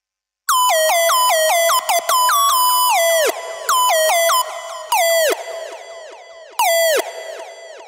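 Bright EDM drop lead synth with pitch automation, rich in harmonics, playing loud sustained notes that swoop and bend downward at the ends of phrases, with gaps between bursts and a fading tail.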